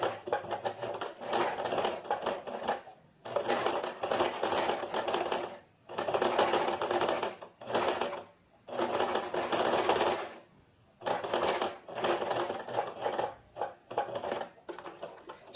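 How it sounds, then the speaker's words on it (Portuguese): Sewing machine running along the edge of a short-sleeved shirt in bursts of rapid stitching, with short pauses between runs, close and steady. "a gente vai fazendo essa costura bem na beiradinha"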